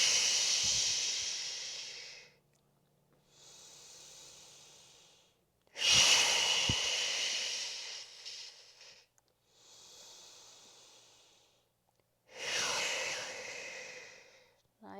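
Slow, deep breathing during a core exercise session, long hissing inhales and exhales alternating in a steady rhythm, close and clear with quiet gaps between breaths.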